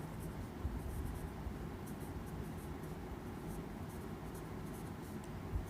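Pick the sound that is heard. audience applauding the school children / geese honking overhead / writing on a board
writing on a board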